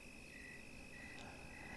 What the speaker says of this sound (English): like the sound of like crickets and frogs